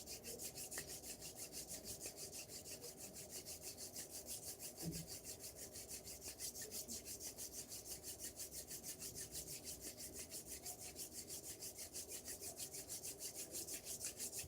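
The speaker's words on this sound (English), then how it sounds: "Rub your hands together." Palms rubbing briskly together in a steady, continuous back-and-forth friction, a dry rasping texture repeating evenly throughout, close and moderately quiet, with no talking.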